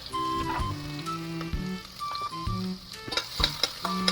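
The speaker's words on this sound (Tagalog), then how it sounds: "Igisa lang natin siya ng mabuti" Garlic, onion and ginger sautéing in hot oil for chicken curry, a steady close sizzle broken by repeated scraping and stirring clatter from a spoon against the pan, with no talking.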